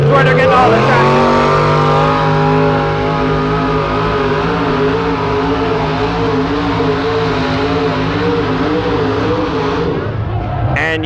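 A truck-pull competition truck roars loud and close as it drags a weighted sled, holding a steady, harmonic engine drone for about ten seconds before cutting off abruptly, with commentary over the top.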